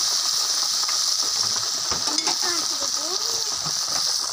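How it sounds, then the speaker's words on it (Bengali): Mango pieces sautéed in a pan for a chutney: a steady, dense sizzle with faint scraping of a spatula and a voice murmuring in the background. "ভালো করে আমগুলোকে কষিয়ে নিচ্ছি"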